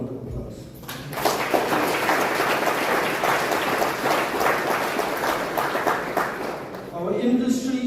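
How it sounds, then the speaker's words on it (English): Audience at a Guyana tourism awards gala breaks into sustained applause lasting several seconds, dense and fairly loud, with a voice before and after. "you deserve a loud round of applause"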